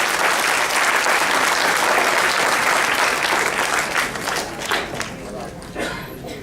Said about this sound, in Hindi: आप ताली बजाकर उनका अभिनंदन अवश्य करें